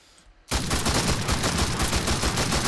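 A light machine gun in the video game Enlisted firing on slow automatic, with a steady, evenly spaced stream of loud, punchy shots that starts abruptly and keeps going without a break.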